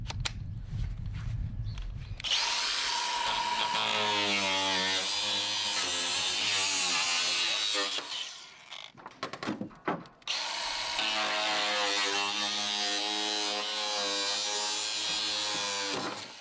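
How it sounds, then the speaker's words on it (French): An angle grinder cutting a zinc gutter whines loudly for several seconds, drops out briefly with a few rough bursts, then resumes its high, steady cutting screech. "Nous faisons pareil pour la gouttière en zinc, mais avec une meule."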